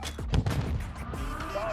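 A Bryson 890 shotgun firing in Modern Warfare 2, a couple of loud close booms near the start and then a ringing game tail with faint background noise.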